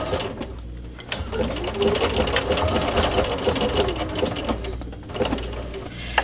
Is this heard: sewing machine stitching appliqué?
yes